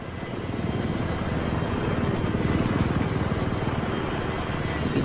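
An enemy helicopter in Battlefield 3, its rapid rotor chop building in over the first second and then holding as a steady, fairly close whirring drone.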